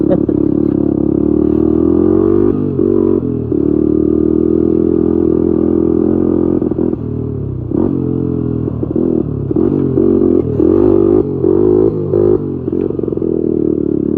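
An old Honda 250X ATV engine drones loudly and steadily while being ridden through mud, with throttle surges, rattles and splashing clatter close by.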